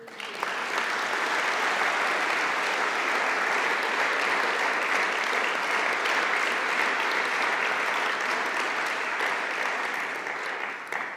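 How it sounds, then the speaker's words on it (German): A crowd at the Dr. Hans Riegel award ceremony gives steady, sustained applause, dense and uniform for over ten seconds, tapering slightly at the end. "Der Applaus gehört euch"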